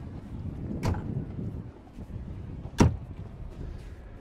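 Diving doors on an Axopar 45 XC boat closing with two distinct thuds about two seconds apart, close by under wind noise at the Cannes Yachting Festival.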